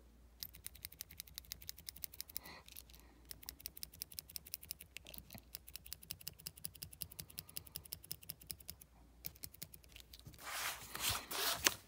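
Rapid, crisp clicks from a Tombow Mono Graph Zero mechanical pencil, close and quiet, coming in dense bursts with short pauses and a brief rustle near the end.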